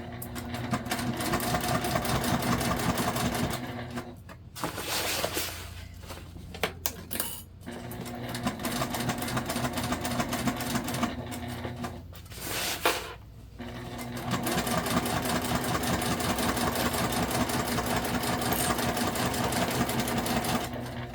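A sewing machine stitches the side seam of a fabric tote bag with a fast, steady mechanical chatter, broken by short pauses a few times before it runs on continuously to the end.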